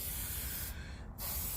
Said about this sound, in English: now for the last step, I'll use spray shellac.